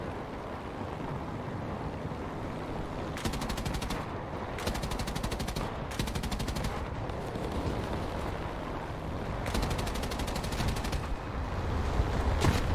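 Naval battle in the War Thunder video game, with a US destroyer firing repeated bursts of rapid machine-gun fire over a constant dense roar of engine and sea noise.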